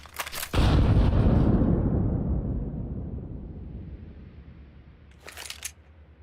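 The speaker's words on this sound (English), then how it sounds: "Grenade out." In Counter-Strike 2, a grenade detonates with a sharp, loud blast that rolls into a long fading rumble, followed near the end by a short burst of gunfire.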